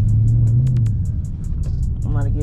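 A big-bodied V8 car rumbles loudly up close, its engine swelling briefly in a short rev before settling back to a deep idle.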